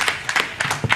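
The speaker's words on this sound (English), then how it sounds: "That's that round of applause," Scattered applause at a conference awards session in Africa, a few uneven claps rising and falling for about a second, fairly close and not very loud.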